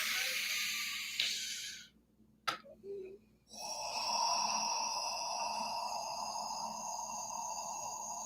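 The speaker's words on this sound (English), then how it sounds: "Breathe in deep." Deep, slow breaths for a Hawaiian HakaLau breathing exercise: long, airy, hissing exhales fill most of the stretch, broken by a short quiet gap and a brief sharp puff before the breathing resumes, steady and close.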